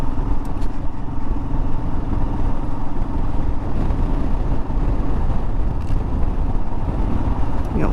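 A Royal Enfield motorcycle rides through the desert with a loud, continuous engine rumble and wind noise from on board, steady throughout, with no talking.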